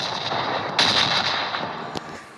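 A loud, sharp explosion in PUBG's red zone bursts out with a rumbling crackle, followed by a few scattered pops and booms fading in the background.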